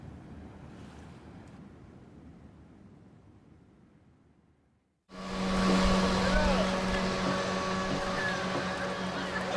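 Sea water washing against the huge rocky cliffs at Portofino on the Ligurian coast: quiet ambience, then a sudden loud, steady roar of surf with wind and a constant low droning hum.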